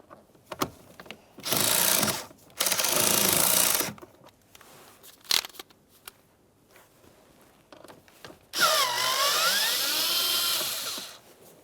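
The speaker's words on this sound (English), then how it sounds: "To remove this, we'll remove our 8mm headed bolt, and then the cover." Ratchet or tool loosening the 8mm bolt on the cabin air filter cover of a 2004-2015 Nissan Titan, with bursts of close mechanical whirring and clicking separated by small handling taps and rustles.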